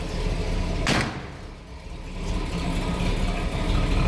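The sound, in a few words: V8 car engine idling rumble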